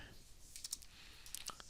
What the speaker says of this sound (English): So let's type in cmd here